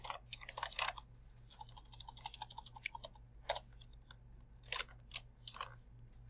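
Typing on a computer keyboard: quick, light key clicks in uneven bursts with short pauses, soft and close over a low steady hum, with no talking.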